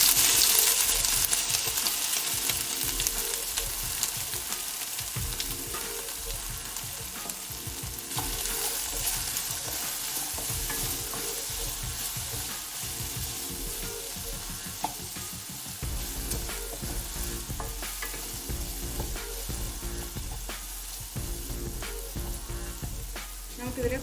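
Sliced okra and green chili sizzle and fry steadily in coconut oil in a pan, a dense continuous crackle with occasional stirring scrapes and clinks throughout, no talking.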